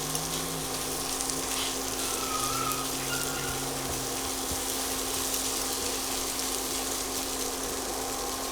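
Cabbage and squid pancake batter frying in olive oil in a pan, a steady close sizzle and crackle that holds at an even level throughout, with no talking.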